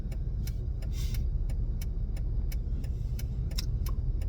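Cabin of a truck while driving, with a steady low road and engine rumble throughout and soft rhythmic ticking or jingling on top, no talking.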